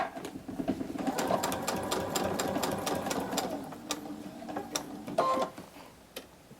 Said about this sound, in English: I'm just going to sew within a 1/4 inch of that mark.